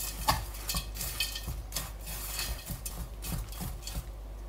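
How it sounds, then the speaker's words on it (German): Salt is stirred into a flour mixture in a bowl, producing a steady, close scraping and rubbing with a rhythmic back-and-forth texture, fairly quiet and without speech. "Das alles gut verrühren."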